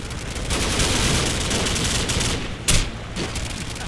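Dense rapid gunfire rattles continuously in Call of Duty, with a sharper single shot standing out near the end.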